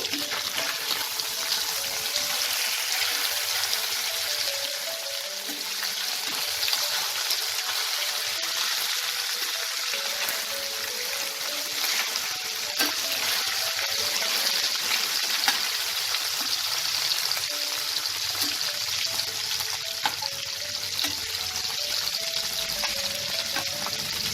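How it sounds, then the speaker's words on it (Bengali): Tangra fish sizzle steadily in hot oil in a pan, cooking on their second side, a continuous bright crackling hiss that holds fairly loud throughout with no talk. "এবার এই পাশটাও লাল করে ভেজে নেব।"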